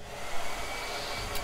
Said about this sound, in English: So, speaking of which, blow dryer.